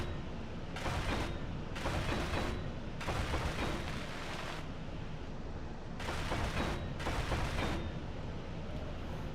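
Gatling turrets in Space Engineers fire in long rattling bursts, several sustained volleys separated by short pauses over a constant loud rumbling background.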